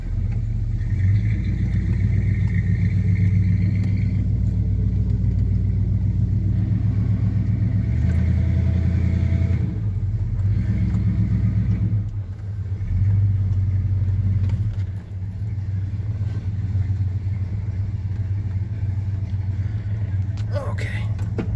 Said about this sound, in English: let's drive this old truck back to the front yard.